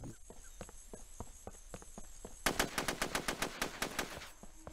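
Gunfire in the video game SOCOM 2 starts after a stretch of faint, sparse shots and clicks, then breaks into a rapid, evenly spaced automatic burst of loud cracks lasting about two seconds.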